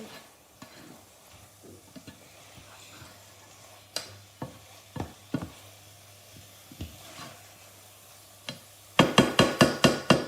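A spoon stirs and mixes pasta sauce in a pan, making scattered wooden knocks and scrapes over a quiet background, then a rapid burst of six or seven loud clacks at the end.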